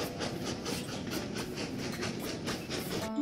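A yellow train rolls along in the railway game Train Valley, giving a steady rhythmic clickety-clack of wheels over rail joints at moderate, even volume, with a faint chime near the end.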